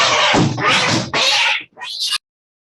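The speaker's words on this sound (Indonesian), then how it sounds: "Ada kucing berantem." Cats fighting: loud, close yowling and caterwauling in several drawn-out bursts, the last one rising and falling before it cuts off into silence.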